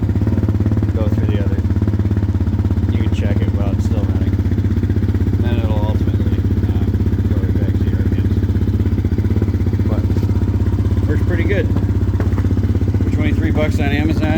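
A 2022 Polaris Outlaw 110 EFI youth ATV engine idles steadily close by for the whole stretch, a constant low rumble with faint clatter as a person talks over it.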